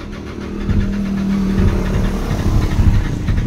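A Nissan Navara diesel engine with a fuel pump fault labours through a hard start, settling into a rough, steady low rumble with uneven knocking, close by and continuous.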